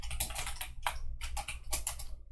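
A Python print statement typed on a computer keyboard: quick, close clusters of key clicks in uneven bursts with short pauses between, no voices.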